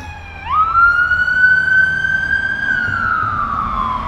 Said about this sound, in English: There goes an ambulance somewhere.